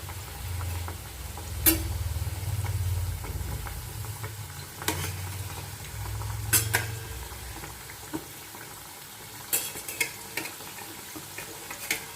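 Samosas fry in oil over medium heat with a low, steady sizzle and bubbling, interrupted by occasional sharp clicks and taps of a utensil against the pan.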